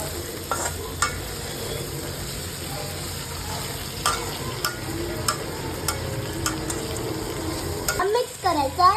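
Ginger, onion, capsicum and garlic fry in hot oil with a steady loud sizzle while a utensil stirs and scrapes the pan in scattered knocks, ending in a burst of heavier stirring.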